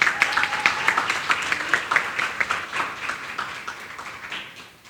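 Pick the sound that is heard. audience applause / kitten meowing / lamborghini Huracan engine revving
audience applause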